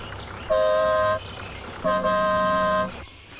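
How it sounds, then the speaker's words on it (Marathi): A bus horn honks twice, each a loud, steady, tonal blast lasting under a second, heard over a low rumble of background noise. "अगं बसचा हॉर्न वाजतोय."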